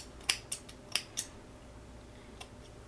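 Scissors snip away the lace of a curly 360 wig in a series of sharp, close clicks, several quick cuts early on, then a pause and a few more isolated snips in a quiet room.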